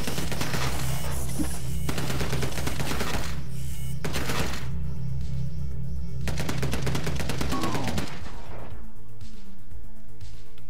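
Machine-gun fire in the video game Beyond Sunset comes close and loud in several long, rapid rattling bursts separated by short gaps, over a low steady hum, with fainter shots toward the end.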